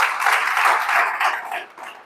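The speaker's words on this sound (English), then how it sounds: "Clap for them." An audience at a live wellness event claps, a loud, close cluster of hands in uneven surges that rise and dip over a couple of seconds.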